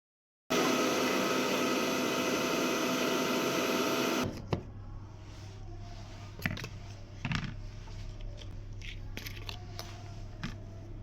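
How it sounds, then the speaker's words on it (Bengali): A mixer grinder whirling butter, powdered sugar and milk runs loud and harsh for about four seconds, then cuts off, leaving quiet room tone with a few clinks and handling knocks. "বাটার নিয়ে প্রথমে আমি চিনি পাউডার আর দুধটাকে একটুখানি মিক্সিতে তো ভালো করে 5 মিনিটের মতো ঘুরিয়ে নিয়েছি"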